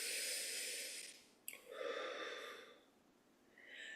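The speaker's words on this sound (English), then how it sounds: "Take a deep breath." One slow, deep breath drawn in and then let out during a guided morning meditation, a long airy inhale, a brief catch, then a softer hissing exhale, close and alone.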